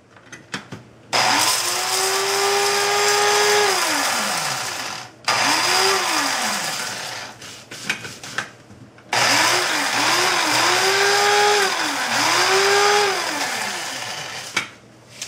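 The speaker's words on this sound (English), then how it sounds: "We're going to get them as is into the coffee grinder or my spice grinder and give them a whirl" An electric spice grinder grinds whole spices in three loud bursts, its motor pitch rising and falling as it spins up and down, with short pauses between runs.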